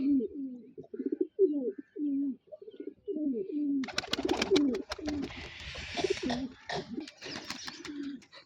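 Pigeons in a Rajasthan loft in the morning coo in low, repeated throaty phrases close by. Partway through, a burst of rustling and wing flapping rises around them, and soft chirps mix in.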